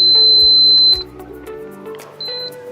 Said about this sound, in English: So obviously you can turn the beep on and off